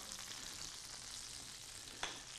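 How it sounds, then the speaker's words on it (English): Butter sizzling in a pan over heat that is a little too high, a steady broadband frying hiss with a brief louder crackle near the end. "You hear the sizzling starting? That's a sign that perhaps it's just a little bit too high."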